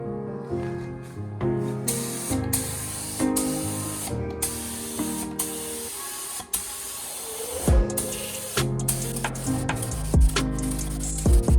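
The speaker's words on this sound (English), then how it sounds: "chuck it in the gun and spray now the fronts of the wheels" A steady hiss of a spray gun painting the fronts of Toyota MR2 wheels in repeated bursts, close and fairly loud, with short clattering handling noises in between.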